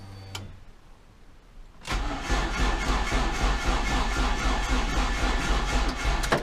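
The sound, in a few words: car engine cranking, trying to start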